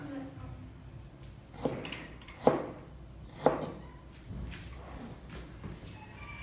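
A knife slices chicken on a cutting board, giving three distinct thuds spaced about a second apart over a low, steady background.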